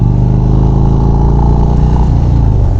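A 2025 Indian Springfield Dark Horse motorcycle rides along a highway, its engine giving a loud, steady low rumble with a slight shift in pitch near the end, heard up close from the bike itself.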